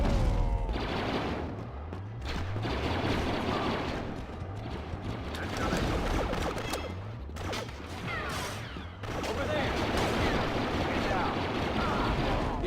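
Rapid blaster gunfire from the Star Wars Battlefront video game, repeated bursts with explosions and battle noise throughout, loud and dense, with voices and game sound mixed in.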